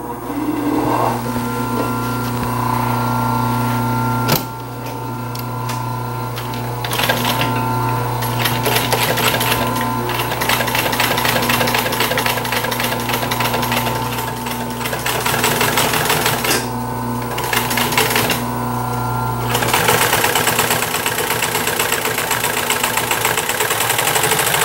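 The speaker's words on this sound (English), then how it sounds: "I've put in a heavy 23 gauge needle to help reduce the thread from binding into the adhesive, and I've gone to the largest stitch size on my machine" A domestic sewing machine stitches mid-century chair upholstery with a heavy 23 gauge needle at its largest stitch length, humming steadily and loudly at close range, with a few short pauses between runs.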